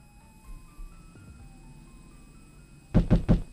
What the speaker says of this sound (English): Luca was startled from his dream by a banging on the floor.